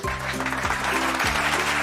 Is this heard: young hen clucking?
no